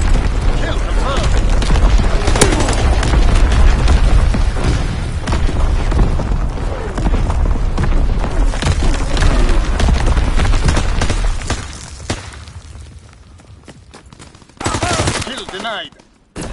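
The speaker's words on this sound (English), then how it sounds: "Enemy mortar fire incoming!" Mortar and artillery fire in the World War II shooter Call of Duty WWII: dense, loud booms and rapid gunfire roll almost continuously for about twelve seconds, ease off briefly, then another heavy blast erupts near the end.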